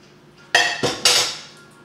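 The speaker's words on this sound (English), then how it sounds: "So I'm just going to stick this in the sink." Dishes and a pot clatter into a kitchen sink: three sharp metallic clanks in quick succession, close and loud, each ringing briefly before fading.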